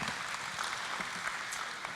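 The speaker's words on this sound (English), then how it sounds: "let's give a big round of applause for the next startup" At a startup contest final, an audience applauds a team coming to the stage, a steady wash of many hands clapping evenly for two seconds, moderately loud and without speech.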